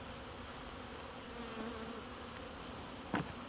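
Honey bees buzz steadily around an opened top bar hive during installation, a continuous low hum with a brief louder knock or scrape near the end.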